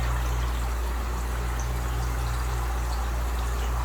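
Water running and trickling into fish tanks from a drip system in a fish house, a steady soft wash of flowing water with no distinct pattern, continuous and close, with a low hum underneath and no talk.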